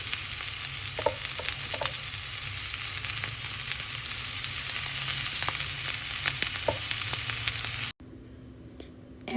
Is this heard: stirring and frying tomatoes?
yes